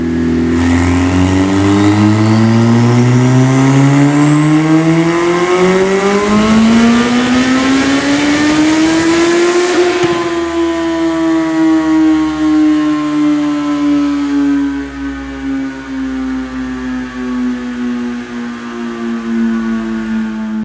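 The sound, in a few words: turbocharged Hayabusa motorcycle running on a dynamometer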